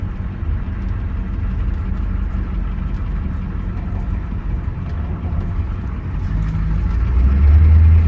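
A Ford 6.9 or 7.3 IDI diesel truck driving from inside the cab, a steady low engine drone and road rumble that swells louder toward the end as it pulls harder, with no talking.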